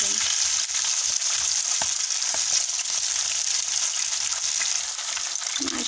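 Fish frying in oil over a low flame gives a steady, close sizzle with fine crackling throughout, joined by a few soft clicks and taps from the pan and no talking.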